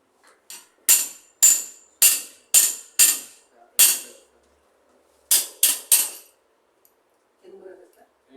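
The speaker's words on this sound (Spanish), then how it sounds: "Martillo." Hammer blows land in sharp, loud strikes on a ramp being fitted, a rapid run of about six followed by a pause and a quick cluster of three more, with faint speech near the end.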